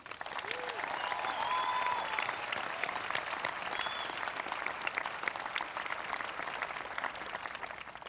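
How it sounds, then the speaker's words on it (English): A crowd applauds the Class of 2004 at a South St. Paul high school graduation ceremony, steady, even clapping filling the hall, with faint cheers and whistles mixed in. "Please join me in showing our support to the class of 2004 by giving them a round of applause."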